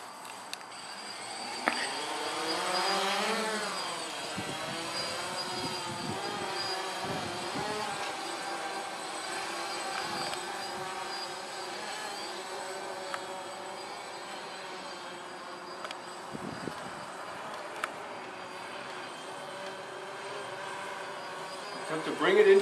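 A DJI Phantom drone flies a windy test flight near a garage, a steady whining buzz of small propellers with wavering tone, fairly close and continuous throughout.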